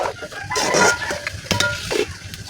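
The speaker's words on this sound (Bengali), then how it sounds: "এখন আমি ভালো করে নেড়ে চেড়ে নেব" Ground spices (turmeric, chili and coriander powder) stirred and sautéed in a pan for a vegetarian dish with jackfruit and dalda, giving scraping spoon strokes over a soft steady sizzle.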